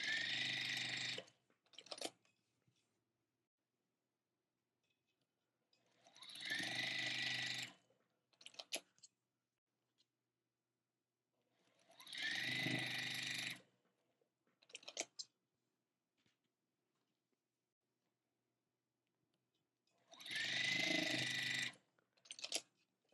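A sewing machine stitches quilt block rows for a Bright Side Block #10 quilt, in four separate bursts of steady mechanical whirring, each a few seconds long and followed by short clicks, with near-silence between runs.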